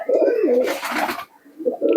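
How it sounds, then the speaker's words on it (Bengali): A pigeon coos close by in a low, throaty, rolling call, with a brief rustle partway through. "খুবই সুন্দর কোয়ালিটির কবুতর"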